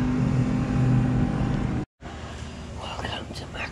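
Motorboats speed past an anchorage in the Bahamas, a steady droning engine hum for the first half under faint whispery voices, then a brief cut to quieter ambience with soft talking.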